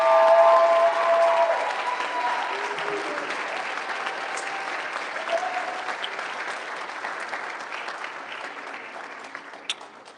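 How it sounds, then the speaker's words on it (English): An audience at a school sports awards ceremony applauds an award winner, a broad sustained wash of clapping that starts strong and slowly fades over ten seconds, with a few faint voices and whoops mixed in. "Go ahead and clap for Andrew Rogers."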